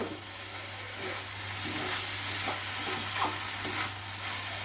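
Spices with Kashmiri chili powder stirred in hot oil in a pan give a steady close sizzle and hiss with soft scraping strokes, over a constant low hum.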